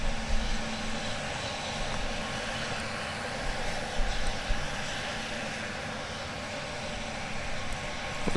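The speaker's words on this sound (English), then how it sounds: "We're aiming our camera in the general direction of the arriving aircraft." Arriving airliner, Flight 1526 from Bozeman, approaching DFW Airport, heard as a steady broad jet engine roar with a low rumble that holds evenly throughout.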